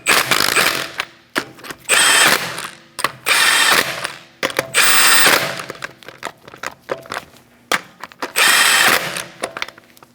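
Impact or power tool tightening lug nuts on a 2012-2020 Chevrolet Sonic 1.8L wheel in a star pattern, sounding in five loud, close bursts of a second or so each, with short clicks and quiet gaps between them and no talk.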